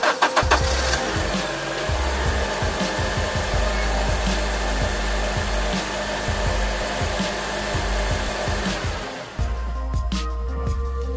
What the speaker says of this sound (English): Let's go ahead and crank the car up, make sure everything's still hooked up, still working,